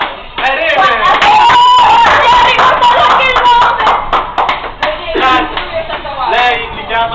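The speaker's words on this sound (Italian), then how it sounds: "un applauso a Irene" Scattered hand clapping for a woman named Irene inside a tram in Vienna, sharp claps running for several seconds, mixed with loud overlapping voices and cheering close by.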